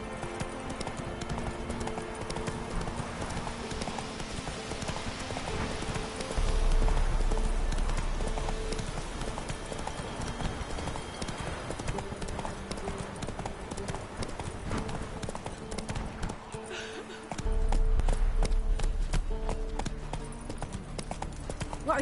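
Roach the horse gallops in The Witcher 3, a steady rhythmic clip-clop of hooves running through the whole stretch, fairly close, over game music and ambient noise, with a louder low rumble swelling at two points.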